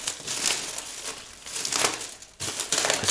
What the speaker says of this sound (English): Let's get the nasty foil out of here